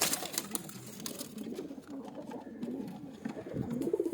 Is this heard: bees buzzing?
no